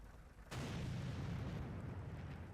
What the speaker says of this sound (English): the artillery there fires blind again